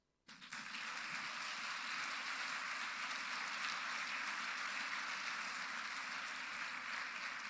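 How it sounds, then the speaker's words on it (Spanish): A church congregation bursts into applause after a sudden start, a dense, even clatter of many clapping hands that holds steady and fairly loud throughout. "Denle un aplauso a Jesús."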